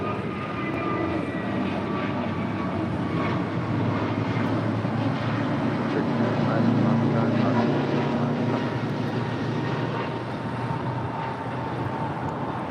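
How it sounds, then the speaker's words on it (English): An American Airlines Airbus A321neo departs LAX for Miami, its steady jet roar filling the air at moderate distance with a broad, constant rumble and a slight swell midway, while faint voices murmur underneath. "This is American Airlines 1959 departing to Miami on an A321neo"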